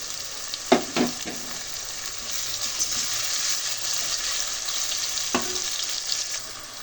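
Tomatoes dropped into browned onions frying in a pan, a steady hiss of sizzling oil throughout, with a couple of brief louder clatters and splashes as the pieces go in and get stirred.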